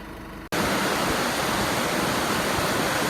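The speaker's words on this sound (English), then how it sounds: "Laanecoorie Reservoir overflowing a bit more than what it was last week" Laanecoorie Reservoir overflowing its spillway in flood, a constant loud roaring rush of water that cuts in abruptly after a brief quieter moment and stays steady.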